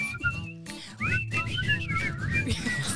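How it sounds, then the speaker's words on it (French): People whistling a game jingle together on a round-the-world 4x4 trip, wavering tuneful whistles in a short broken phrase, fairly close, with some background rumble and no talk. "normalement il faut siffler"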